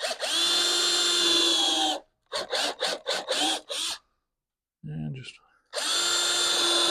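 A power drill drives screws into soft, light fence-picket wood in loud bursts: one long whir, a run of short stuttering pulses, then another sustained spin. A brief spoken phrase falls in the quiet gap between them.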